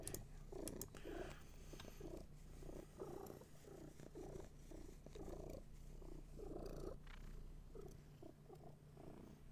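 A house cat purrs steadily and softly right up close, a continuous low rumbling with a gentle in-and-out breathing rhythm and no other sounds.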